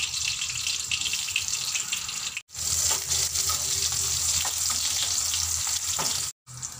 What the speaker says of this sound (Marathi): तर त्यावर टाकते मी लसूण.